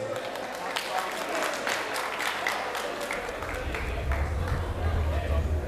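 An audience at a staged event breaks into scattered clapping that thickens into a burst of applause, mixed with crowd murmur and a voice talking over it.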